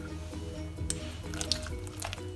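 A whole egg being mixed into condensed milk for a caramel cream cheese pudding, heard as soft, wet squishing and stirring with a few light clinks, steady and close throughout.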